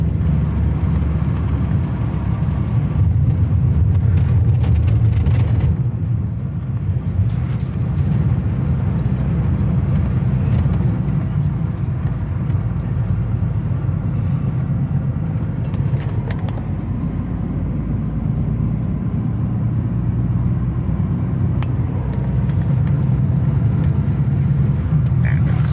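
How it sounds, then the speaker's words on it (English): Ford Transit van with a six-speed gearbox, suffering an engine light and low power, pulling up a steep hill in fourth gear; a steady low engine drone and road rumble continue for the whole stretch, close and fairly loud. "So I'm going to see how it pulls up here in fourth, because this is going to be the real test for it."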